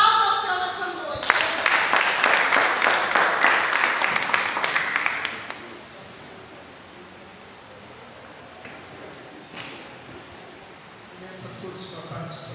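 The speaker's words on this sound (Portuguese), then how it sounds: "aplauda ao Senhor nessa noite" Congregation applauding during an evening church service, a dense wash of clapping for about four seconds that fades out, leaving quiet room noise with a few faint stray sounds.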